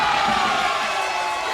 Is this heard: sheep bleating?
no